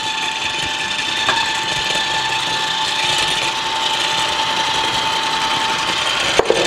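An electric mixer creams softened butter and sugar for a loaf cake batter, a steady whirring motor drone with a faint tonal whine, continuous and close, with a couple of clicks near the end.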